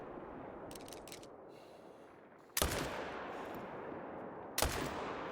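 Two loud, sharp rifle shots from a 300 Magnum AR ring out in a bear hunting video game, spaced about two seconds apart over a steady ambient hum, each followed by a decaying tail.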